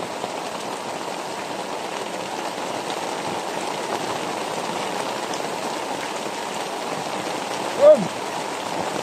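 Steady rain falls in a constant hiss of drops hitting surfaces, with a brief faint squeak near the end.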